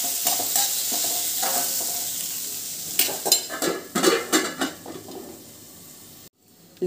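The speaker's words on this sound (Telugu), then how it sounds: "ఇది మిక్స్ చేద్దామండి ఇప్పుడు." Vegetables being stirred in a hot pan with a little salt for a vegetable rice, sizzling steadily while a utensil scrapes and knocks against the pan in irregular bursts, close by, ending with a brief pause.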